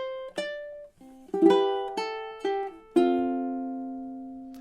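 Ukulele picking a short phrase from a gentle song, single plucked notes and small chords ringing clearly, close and quiet, the last note left to sustain.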